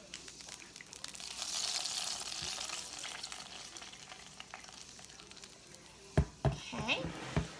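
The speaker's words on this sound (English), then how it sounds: "I'm going to toast the bagel in it, so I'm going to drain the grease out." Hot bacon grease drains out of a Range Mate microwave pan, giving a steady hissing, sizzling pour that ends in a few sharp clunks of the pan being handled.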